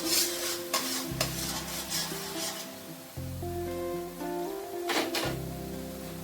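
Masala with tomato paste made from two medium tomatoes sautéing in a pan for a vegetarian paneer dish, giving a steady sizzle with scraping stirs and spatula knocks against the metal, close and loud, with no talking.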